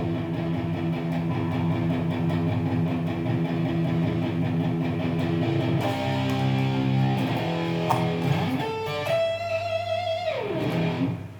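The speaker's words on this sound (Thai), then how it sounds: "ฟังเสียงแตกนะจากตู้" A distorted electric guitar plays chords and sustained notes through an amp, gritty and loud, ending with a sliding high phrase.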